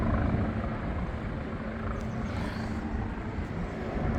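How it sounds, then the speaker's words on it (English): A helicopter flies overhead near HMS Belfast in London, its far, steady rotor drone rumbling continuously. "Helicopter up there."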